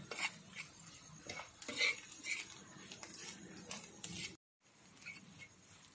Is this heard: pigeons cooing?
no